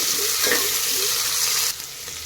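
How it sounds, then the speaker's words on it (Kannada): Chopped onion, curry leaves, mustard seeds and cumin frying in hot oil make a loud, close, continuous sizzle that drops off abruptly near the end, with no voices. "ಇಲ್ಲಿ ಸಾಸಿವೆ ಜೀರಿಗೆ ಎಣ್ಣೆ ಕಾದಿದೆ ಎಣ್ಣೆಗೆ ಹಾಕ್ತಾ ಇದ್ದೀನಿ"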